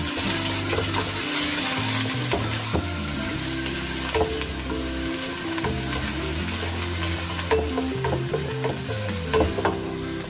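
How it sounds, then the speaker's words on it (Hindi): Garlic ginger paste frying and being stirred in hot oil, a steady close sizzle with scraping stir sounds throughout, no voices. "अब इसी ऑयल में मैं लहसुन अदरक का पेस्ट डाल दूँगी, उसको तेल में फ्राई कर लूँगी।"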